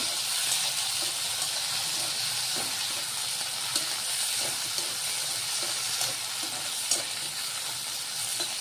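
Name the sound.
chopped tomato and sambar cooking in a pan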